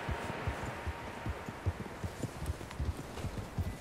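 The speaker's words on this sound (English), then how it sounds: "That tracks, horses, quite a few of them." Several horses clip-clopping in Red Dead Redemption 2, a soft, rhythmic patter of hooves at a steady walking pace, moderately distant.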